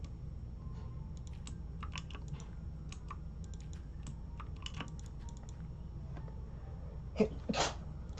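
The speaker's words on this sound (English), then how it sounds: "Excuse me, I just sneezed." A single sharp sneeze bursts out near the end, following a stretch of steady keyboard typing and clicking in a quiet room.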